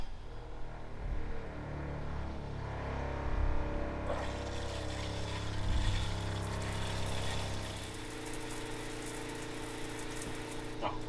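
In a camper van, a recirculating shower pump hums steadily as it pushes water through a freshly primed line. The whirring and water noise shift in character partway through and carry on alone.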